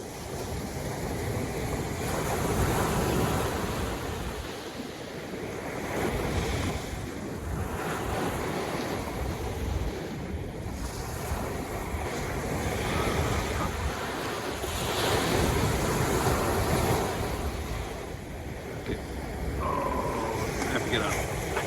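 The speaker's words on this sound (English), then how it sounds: "This is the obligatory shot of waves." Ocean surf rolls onto the beach at Kouchibouguac National Park, broad washes of waves swelling and receding every few seconds under gusty wind buffeting the microphone, with occasional talk nearby.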